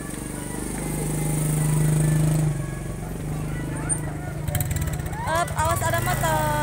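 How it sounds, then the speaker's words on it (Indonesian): A motorcycle passes close by on a street where an ondel-ondel figure is being paraded, its engine note rising and falling against the ongoing traffic rumble while adults and someone talk over it. "Awas ada motor."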